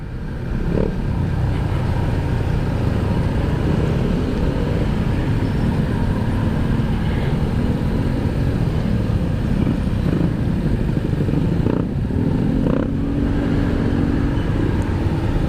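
Continuous loud motor rumble with passing traffic noise, a motorcycle engine droning steadily throughout with occasional brief clicks and shifts.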